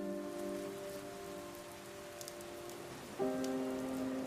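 Steady rain falls across the scene in the video game Silver Palace, a continuous hiss of drops on surfaces with no voices, while tonal music hums beneath and briefly swells near the end.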